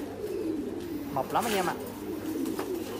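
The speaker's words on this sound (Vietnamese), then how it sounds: "Đây là những cặp bồ câu của mình là sinh sản hết rồi anh em nhé." Large American giant pigeons coo in a loft, their low throaty calls rising through the middle of the clip while someone talks over them.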